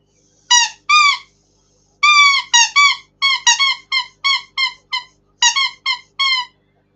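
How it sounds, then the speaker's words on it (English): A squeaky poop emoji toy gets squeezed in a quick series of about a dozen sharp, high squeaks. They come in uneven bursts, loud and close, with silence between them and no talking. "The squeaky poop emoji."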